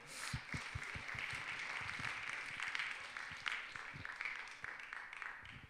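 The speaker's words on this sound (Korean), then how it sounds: "박수로 맞아주세요." A youth church congregation gives quiet, scattered applause to welcome the mission team leader, a soft steady patter of many hands heard from a distance.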